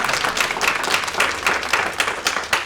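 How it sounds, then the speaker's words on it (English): A room full of people claps in dense, sustained applause, loud and close, after a speech line about national electrification, with no voices over it. "Yeah, you can clap for that."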